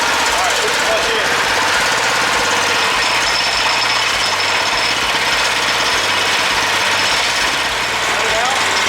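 John Deere 200 series lawn tractor with a re-powered engine running steadily, a loud chugging, knocking idle with constant rhythmic pulses and high whine, voices briefly heard over it.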